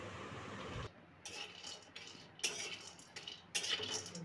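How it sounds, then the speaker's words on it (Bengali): Dried lentil nuggets stirred in a hot wok: soft scraping and light clinks of a utensil against the pan in short bursts, quiet and close, with no talking. "প্রথমেই কড়াই গরম করে কতগুলো বড়ি দিয়ে সেটা একটু নাড়তে থাকবো।"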